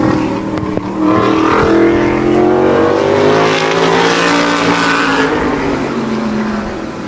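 Modified race cars roar around the Wall Stadium oval during a qualifying time trial lap, a loud sustained engine drone with a rising and falling pitch as they power through the turns.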